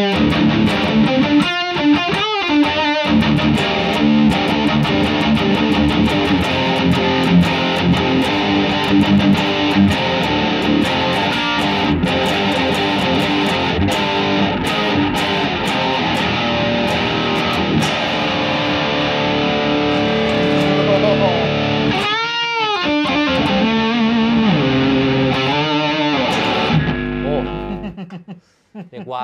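A distorted electric guitar through a NUX Amp Academy amp simulator plays sustained chords and riffs with a crunchy, processed high-gain tone, loud and continuous, cutting off abruptly at the end.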